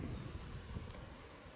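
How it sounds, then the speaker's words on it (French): Honeybees swarming around hives during a summer honey harvest, a faint, steady droning hum with soft rustling, no voices. "elles sont nombreuses les abeilles là"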